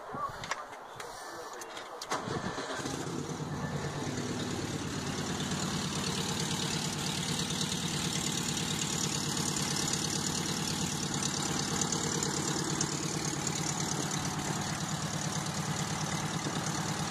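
A 1971 convertible's engine idles steadily and loud at close range after a few brief knocks and clatters at the start, with a continuous rumble that holds throughout.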